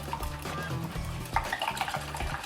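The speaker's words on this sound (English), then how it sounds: "Okay, whisk that up again." Eggs whisked with milk, salt and pepper give a quiet, rapid rhythmic clatter and swish of a whisk against a bowl, close and soft throughout.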